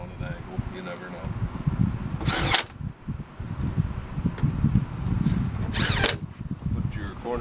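A power drill drives short screws to fasten a corner post of a store fixture, its whining bursts rising twice amid steady background noise, with a voice talking.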